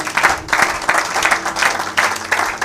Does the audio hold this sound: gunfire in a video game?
no